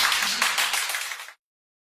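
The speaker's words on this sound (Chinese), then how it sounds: "掌声有请" Studio audience clapping as actor Wang Hedi is welcomed on stage, a bright dense burst of applause that fades and cuts off after little more than a second.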